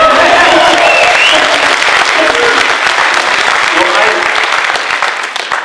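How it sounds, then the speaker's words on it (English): A crowd cheers and applauds loudly and continuously at an interview event hosted by a pastor, with cheering voices mixed into dense clapping that tapers slightly at the end. "Can you hear the crowd one more time?"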